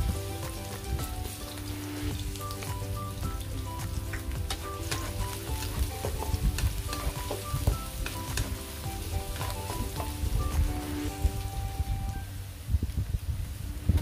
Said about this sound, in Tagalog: Mag-add ng oil at igisa na natin ang ating bawang at sibuyas.